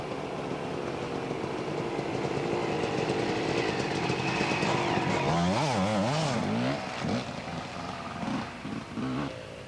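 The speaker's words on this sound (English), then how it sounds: "Most of the riders on this ride are riding Enduro bikes" Enduro motorcycles on a 1991 dual sport trail ride droning continuously, engines rising and falling in pitch with revving and gear changes as bikes pass, loud and fairly close with no talk.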